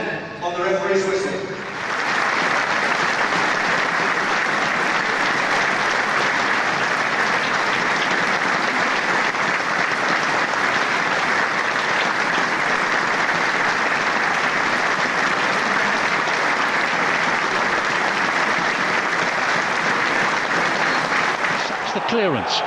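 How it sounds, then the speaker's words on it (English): A football stadium crowd at Huddersfield Town versus Bolton Wanderers claps in sustained, dense applause for a period of reflection, a steady roar of hands held evenly throughout after a brief start. "A period of reflection and applause will start and end on the referee's whistle."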